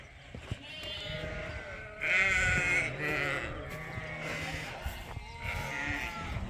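Sheep ewes bleat repeatedly on a farm as they are let outdoors, several overlapping calls near and loud over a steady background of flock noise.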